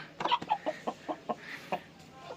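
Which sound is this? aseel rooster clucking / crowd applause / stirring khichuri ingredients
aseel rooster clucking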